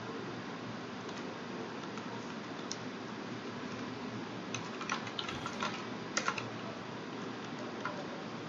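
Rapid typing on a computer keyboard, a continuous patter of quiet key clicks with a few louder taps, heard alone against steady room noise during a database programming lesson.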